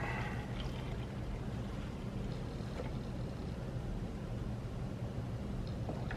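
Motor oil draining from a DR-Z motorcycle engine, a steady faint pouring and trickling wash that runs continuously without pause.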